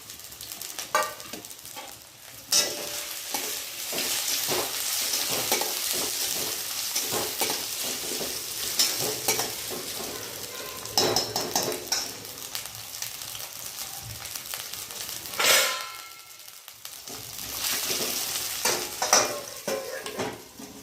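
Potatoes and green chilies fry in a hot pan for sabudana khichdi, sizzling steadily up close while a utensil stirs and scrapes against the pan.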